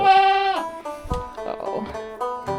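A dairy goat bleats during milking, one long wavering cry followed by shorter broken calls close by.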